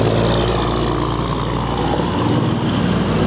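Harley-Davidson Softail Slim FLS motorcycle with factory exhaust, in like-new condition, idling steadily, a continuous loud low rumble that holds even throughout with no revving.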